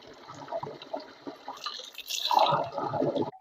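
Water pours from a village water spout in the hills during the rainy season, splashing and gurgling close by at a modest level, growing fuller and louder partway through.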